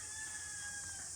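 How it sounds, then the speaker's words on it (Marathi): A rooster crows once in a village at morning, a steady drawn-out call standing clearly above faint background hiss, with no talking. "आणि आजूबाजूला पक्ष्यांचा आवाज येतोय."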